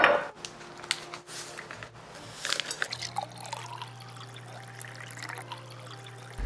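Oat milk pouring into a small tea kettle, a thin trickling and dribbling stream with faint drips, quiet and close, no talk.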